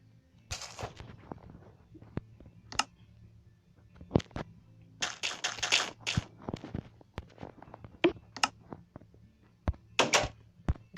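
A Minecraft door being placed: scattered sharp, dry clacks and short bursts of block sounds over a quiet background, with no voices.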